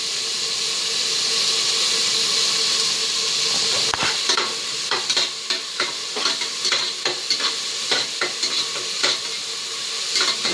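Tomatoes with salt sizzling in a hot pan of softened onions for goat head curry, a constant frying hiss joined midway by repeated scraping stirs of a spoon.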